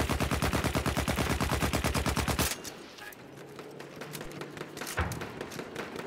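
Rapid automatic gunfire in the first-person shooter Battlefield 1, a fast steady burst of shots for a couple of seconds, then quieter scattered game sounds and a single later shot.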